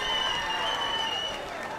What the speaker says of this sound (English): we want to give all of the Nia born and Nia babies a round of applause